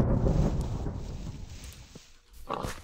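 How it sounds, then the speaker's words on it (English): A thunder sword strike in Minecraft lands as a booming crack of thunder that fades into a low rumble, followed by a sharp short burst near the end. "The mighty thunder sword!"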